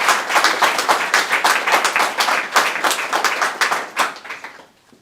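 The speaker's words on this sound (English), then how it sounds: "Please help me welcome with a huge round of virtual and in-person applause" An audience at a disaster challenge final greets a presenting team with a burst of clapping, a crowd of hands beating fast and close before the applause thins and fades out near the end.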